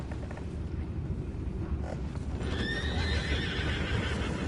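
In the video game Red Dead Redemption 2, horses whinny and neigh over a steady rumble of hoofbeats and clopping, with a louder, drawn-out neigh near the end; a continuous, busy outdoor scene.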